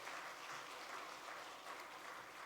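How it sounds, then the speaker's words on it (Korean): A small church congregation claps together during a Sunday morning worship service, a soft, even wash of applause heard faintly and at a distance, with no voices over it. "하나님께 다시 한번 영광의 박수 한번 하겠습니다"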